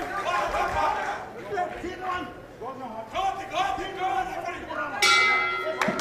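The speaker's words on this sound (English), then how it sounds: "bell goes to the end of the 4th, and Iashash with a nod as he comes back to" Boxing bell ending the fourth round at a championship amateur bout, ringing brightly near the end over crowd noise and commentators' talk.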